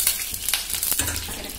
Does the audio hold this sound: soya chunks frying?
yes